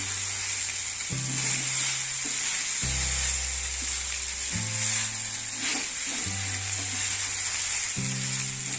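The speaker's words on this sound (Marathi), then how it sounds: "परतायची अशी छान तेलात मिक्स झाले ना साबुदाणे, ते मऊ होतात।" Soaked sabudana (tapioca pearls) sauté in oil in a pan for khichdi, giving a steady close sizzle and hiss alongside the sound of stirring, with no talking.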